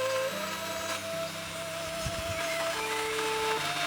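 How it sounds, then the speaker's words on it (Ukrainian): An electric hand mixer whisks cake batter with sugar to a fluffy foam, a steady close motor whine with faint shifting tones running the whole time, no voices. "і зараз все міксером збиваємо до пишної піни"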